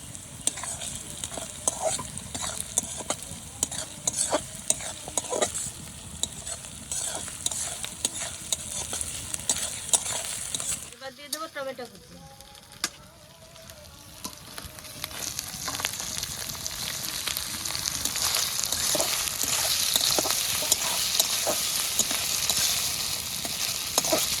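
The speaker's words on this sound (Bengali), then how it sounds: "পেঁয়াজটা একটু ভেজে নিয়েছি এবার দিয়ে দেবো আদা বাটা কাঁচা লঙ্কা কুচি" Ginger paste and chopped green chilli fry with onion in hot oil, a soft continuous sizzle broken by spatula scrapes and stirring knocks, with a brief pause before the frying grows steadily louder.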